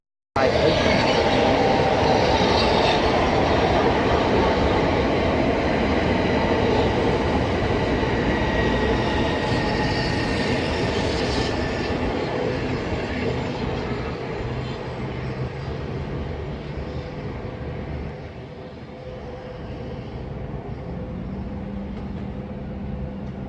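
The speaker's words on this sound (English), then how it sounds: "now arriving in is 1 Foxtrot 40, the 1550 Southeastern high-speed service" A Southeastern high-speed passenger train arrives at Sittingbourne station on the Chatham Main Line. It makes a loud, close, steady rumble and roar that slowly eases and fades as the train slows.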